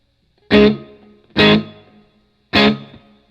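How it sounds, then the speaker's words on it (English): An electric guitar sounds three separate struck chords through a Line 6 Helix plate reverb set short but pronounced, each loud hit followed by a brief shimmering tail before dropping to silence. "Let's go to our plate reverb, which is this bottom path right here."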